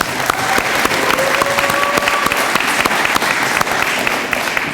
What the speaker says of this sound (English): can we give Judge Duffy a round of applause?